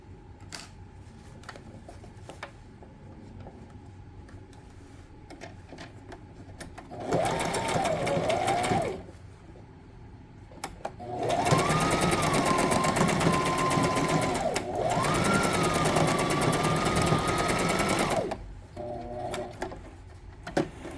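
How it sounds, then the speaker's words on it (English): A sewing machine stitches elastic onto trouser fabric, running in a short whirring burst and then two longer steady runs with a rapid mechanical rhythm, separated by quiet pauses and faint handling clicks. "I can freely stitch over here on top of it and stitch both together"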